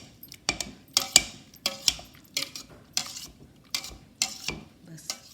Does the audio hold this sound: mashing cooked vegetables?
yes